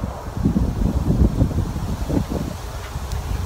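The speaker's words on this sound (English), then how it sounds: "It's so windy out and cold today" Steady, blustery wind buffets the microphone, a low rumbling roar that swells and dips without pause.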